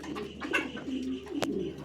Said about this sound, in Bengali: এই যে আরেকটা জোড়া কবুতর